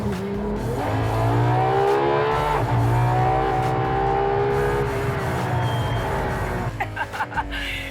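A 950 bhp hybrid supercar, a 790 bhp engine plus 160 from the hybrid system, driven through a 7-speed gearbox, roars as it accelerates, its engine note climbing and shifting in loud, sustained sweeps before tapering into rougher bursts near the end.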